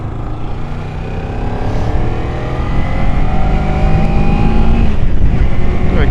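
A 2013 Kawasaki Ninja 300 motorcycle engine hums close by on a test ride around the block, its pitch climbing gradually as it gains speed, with steady wind noise underneath.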